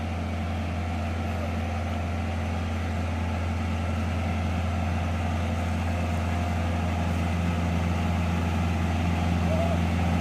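A tractor engine drones steadily while driving down a bumpy hill, a constant low idle-like rumble running the whole time at even loudness, with faint voices in the background.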